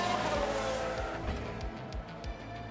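Racing cars in the F1 Manager 22 video game at a crash on the Baku street circuit, a roaring engine drone with tyre squeal and several sharp passing whooshes, no talk.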